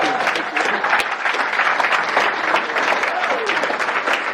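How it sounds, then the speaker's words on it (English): An audience at a film premiere Q&A for The Injustices applauds, a dense, steady wash of clapping from many hands that stays loud and even throughout. "can you please give a round of applause for this talented man right here?"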